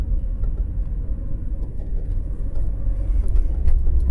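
Busy avenue traffic in the beach town of Valeria del Mar, a continuous loud low rumble of passing cars with no speech.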